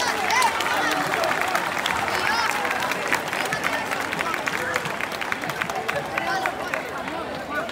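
A crowd gives sustained applause for a singer at a live evening show, dense and loud clapping that holds steady throughout with some crowd noise mixed in.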